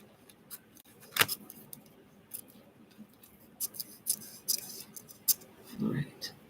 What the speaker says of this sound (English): So let's cut this down.